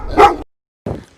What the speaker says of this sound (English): A dog barks.